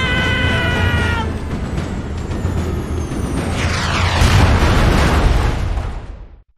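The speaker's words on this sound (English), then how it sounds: "Even though that was quite an explosion, it's fine." A loud, sustained explosion from the video game Jak and Daxter: The Lost Frontier, a dense roaring burst that swells after a descending whine and rumbles on for several seconds before cutting off abruptly.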